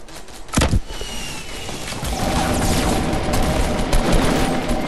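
Fortnite video game gunfire: a sharp burst of shots early on, then dense crackling fire and rumbling effects that continue steadily throughout.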